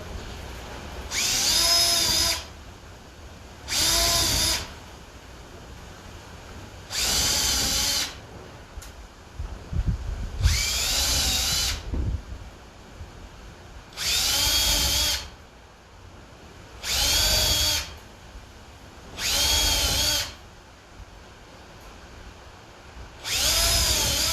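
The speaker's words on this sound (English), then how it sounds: "I'm just going to drill all the way through my wood." A power drill whirs in repeated short bursts, about eight in all, drilling through wood, separated by brief pauses, close and clear with little else around it.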